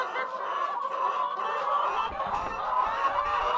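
A flock of Kenchik commercial layer chickens at feeding time clucks and squawks busily together, a dense, restless chorus of bird calls with no talking.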